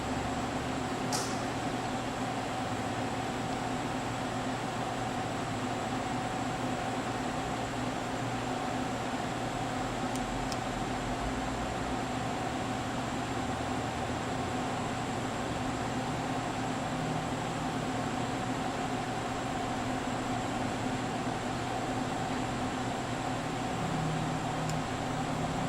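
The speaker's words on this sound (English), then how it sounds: "So we homed all the axes, started the pump." A 1984 Elox-Fanuc Series L CNC wire EDM machine runs its fluid pump, a steady, even mechanical hum with a constant tone that holds without change throughout, fairly close and alone.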